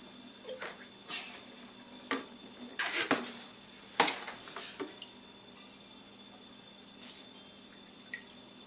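Liquid draining from spent brewing grain during a homebrew session, heard as scattered drips and small splashes with quiet gaps between them, close and fairly soft with no talking.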